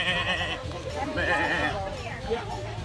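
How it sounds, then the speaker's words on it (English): A goat at a petting zoo bleats up close, a few wavering calls mixed with people talking nearby. "Get a little goat close up here."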